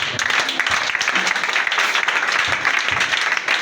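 A church congregation applauds steadily throughout, a dense wash of clapping with cheering voices mixed in, loud and continuous from start to finish.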